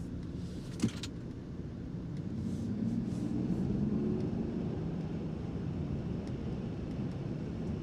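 A Land Rover Defender 90 Trophy accelerating on the road toward a high-speed corner, its engine drone rising steadily from inside the cabin and holding a loud, even roar, with a brief knock early on.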